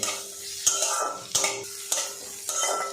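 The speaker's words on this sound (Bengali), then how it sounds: "কিছুক্ষণ নাড়াচাড়া করে নেব এতে গাজর আর কড়াইশুটিটা কিন্তু সিদ্ধ হয়ে যাবে" Carrots and green peas fry in a pan while a spatula stirs them. Regular scraping strokes come about every half second over a soft, constant sizzle, close by, with no talking.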